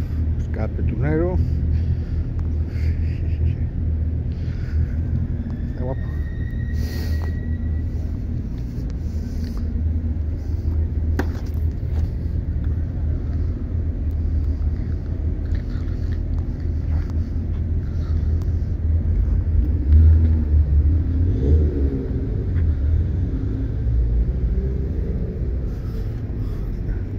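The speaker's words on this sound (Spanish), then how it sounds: "Escape tunero." A VW Transporter T1 van with a tuned exhaust rumbles low and steady at a show, under wind buffeting and nearby crowd chatter, with people talking throughout.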